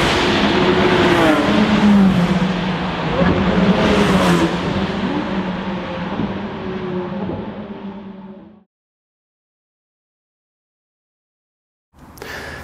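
A Škoda Superb Sportline 4x4 engine roars loudly as it launches with launch control and accelerates hard, revving with a strained, rising tone, then cuts to silence before a brief burst of engine noise returns.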